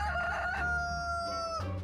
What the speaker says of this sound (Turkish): Evet horoz öttü ve sabah oluyor arkadaşlar